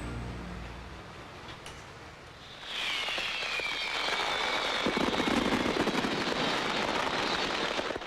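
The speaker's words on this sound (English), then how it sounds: "listening to the fireworks over EPCOT tonight" Fireworks bursting over EPCOT at Walt Disney World at night, a dense continuous crackle and rumble of shells that swells loudly after a quieter start and keeps going with no talk.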